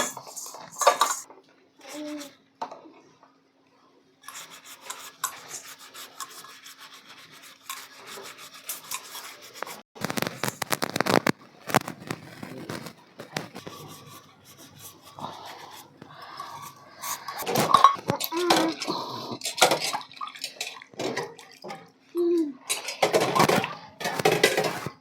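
Brass and copper pooja vessels are scrubbed by hand with tamarind and lemon, giving irregular bursts of wet rubbing, scraping and metallic clinks, close up, with quiet stretches between.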